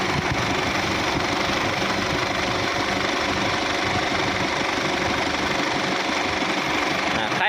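A 2007 Isuzu D-Max pickup with a 2.5 diesel engine idling, a steady, even rumble with a fine ticking texture that holds constant and close throughout.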